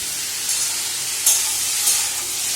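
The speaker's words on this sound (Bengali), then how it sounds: "আলু ভাজা।" Potatoes fry in a pan with a steady, close sizzling hiss and a couple of brief spatters, no talking.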